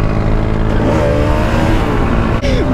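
Modified Maruti Alto with an aftermarket exhaust, a loud close engine drone rising and falling through revs with a brief dip near the end.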